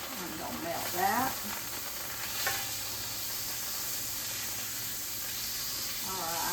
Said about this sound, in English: To this, I'm going to put 4 ounces of butter. I'm gonna melt that.